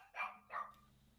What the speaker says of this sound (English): In the background, Dio barks.